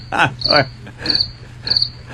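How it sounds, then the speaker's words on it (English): Crickets chirp in short repeated bursts, roughly four pulsing trills over two seconds, clear and fairly close above a faint low hum, with no talking. "There were crickets cricketing."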